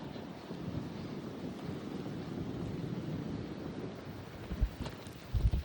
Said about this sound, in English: Man, that wind is cold.